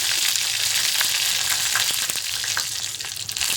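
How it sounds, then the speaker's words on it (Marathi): Mustard seeds and red and green chillies sizzle in a pan of hot oil for a tadka, a loud continuous close frying hiss with scattered crackles and pops throughout. "तडका पॅनमध्ये तेल घातले एक चमचा त्यामध्ये राई घालायची म्हणजे मोहरी घालायची लाल दोन हिरवी मिरची"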